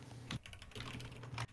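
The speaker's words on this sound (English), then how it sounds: "If I type like I normally do, it's like this." Quick typing on a computer keyboard, a fast run of light clicks with a few louder key strikes, close and clear with no talking.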